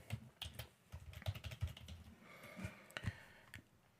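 Password being typed on a computer keyboard: a quiet burst of irregular key clicks at close range, faint and alone, with a brief pause partway through.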